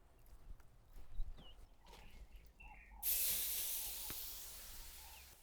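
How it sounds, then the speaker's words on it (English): Pork ribs hit the fire for slow-cooked barbecue, with a sudden loud sizzling hiss that bursts in and holds steady at close range after quieter crackling. "And now we will sear them on the fire"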